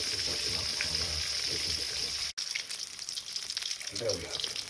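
Vegan fried chicken pieces frying in a pot of hot oil give off a steady, fairly quiet sizzle and crackle, with a short break and a soft stir partway through.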